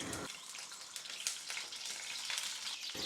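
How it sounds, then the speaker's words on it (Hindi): Peeled boiled eggs fry in hot ghee in a pan, giving a steady, close crackling sizzle with fine spattering pops throughout, and no voices. "अब अंडों को थोड़ा सा यहाँ फ्राई करेंगे लाइट सा गोल्डन कलर लाने तक"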